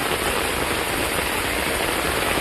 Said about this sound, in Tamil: எங்கள் ஊரில் செம மழைங்க.